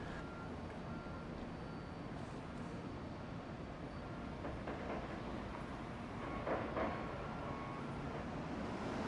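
A Disneyland monorail passes at a distance, a faint continuous rumble on the rails blended with outdoor ambient noise and light wind, swelling slightly toward the end.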